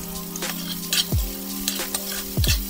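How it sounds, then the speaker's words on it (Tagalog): Pancit lomi noodle soup stirred in a pot, a utensil scraping and sloshing through the thick broth in several close strokes with clinks against the pot over a steady simmering sizzle. "halu-haluin lang po natin"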